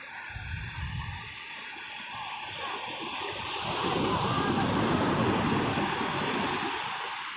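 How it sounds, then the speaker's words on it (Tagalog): Strong ocean waves at a beach in Dingalan, Aurora, a broad rushing surf that swells louder through the middle and then eases, with wind buffeting the microphone. "Lakas ng alon."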